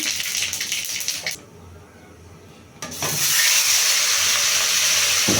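Cumin seeds hit a hot wok with a loud, bright hissing sizzle. It fades briefly, then flares up again and stays loud and steady.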